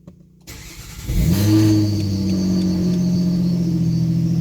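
A Nissan Altima starts from cold after a brief quiet moment, cranking and catching with a loud surge, then settling into a steady, slightly high idle with a continuous exhaust drone, heard close through a cracked window.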